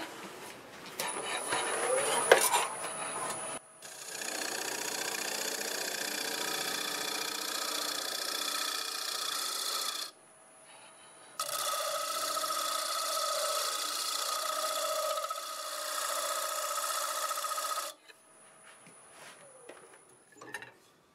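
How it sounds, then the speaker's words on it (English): A negative rake scraper smooths black locust spinning on a wood lathe, giving a steady, fairly loud whirring scrape in two long passes separated by a brief pause, with quieter motor hum before and after. "So let's clean that up with the negative rake scraper"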